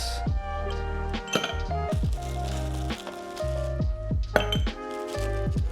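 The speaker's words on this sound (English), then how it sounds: "you can go ahead and just fill this up with ice" Ice cubes clatter and clink into a glass for a Tom Collins cocktail in a rapid series of sharp, ringing hits, close and fairly loud.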